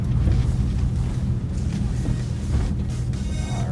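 A 1994 Mitsubishi Minica Toppo 660cc kei car, automatic, lowered with stiff suspension, driving around a block, heard from inside as a steady low engine and road rumble, loud and continuous.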